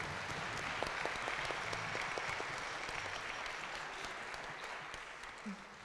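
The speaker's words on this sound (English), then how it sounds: "Let's give them a round of applause once again." Audience applause at a live centennial concert of a school band, honoring the piano, tenor sax and trumpet soloists; steady, full crowd clapping throughout, fairly loud and even, with no speech over it.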